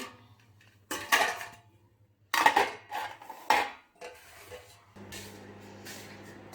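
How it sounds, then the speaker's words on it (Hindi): Containers of sweet and savoury khichdi are covered and set down in a home kitchen, giving a few separate clinks and knocks of dishes and lids with quiet gaps between them and a low hum underneath. "तो बस इसको मैं ढक कर रख देती हूँ।"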